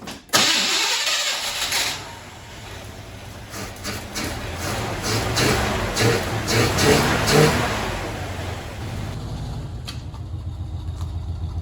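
A Chevrolet square body K10 truck engine cranks and catches, then idles and revs unevenly for several seconds before settling into a steady rumble.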